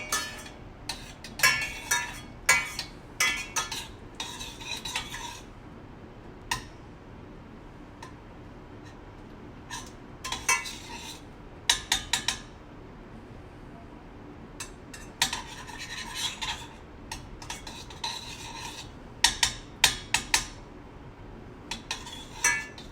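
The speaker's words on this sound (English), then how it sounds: "Okay, and mix it" Cupcake batter being mixed in a bowl, with irregular bursts of close clinking and scraping of a utensil against the bowl separated by quiet gaps, no voices.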